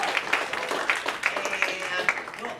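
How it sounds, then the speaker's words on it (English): A hypnosis stage show audience claps, the applause brief and moderately loud with rhythmic hand strikes, while a voice talks over it. "Give him a big round of applause."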